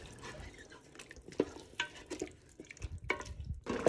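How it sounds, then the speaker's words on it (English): Water poured into a pot of pork goulash, with irregular splashes, drips and soft clinks of stirring, moderately close and without speech. "And when it's completely mixed, you can now add the water."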